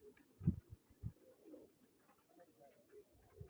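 Soft pigeon cooing and fluttery low calls in a quiet setting during a large pigeon-flying competition, with a few brief thumps and faint background murmur.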